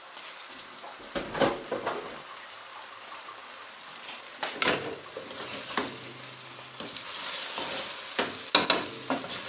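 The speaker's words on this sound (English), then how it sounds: "Mix it very well for the spices to get into the rice and everything" Chicken pilau rice being stirred in a pot, giving scraping, rustling stir strokes in irregular bursts with a soft sizzle underneath, close up and without talk.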